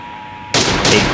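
Video game gunfire in a match-style shootout: after a faint tone, two sharp loud bursts of shots crack in quick succession, filling the brief moment.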